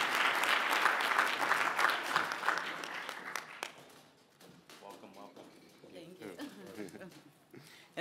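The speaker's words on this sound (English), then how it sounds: "Let's give them a round of applause." Audience applause at a conference opening ceremony, a loud burst of many hands clapping that fades over several seconds, followed by quieter scattered sounds and a voice speaking.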